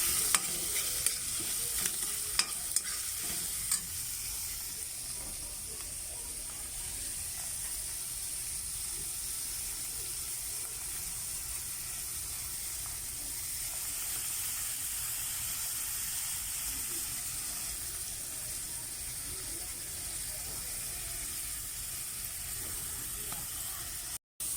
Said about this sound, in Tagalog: Haluin natin habang siya naging fried.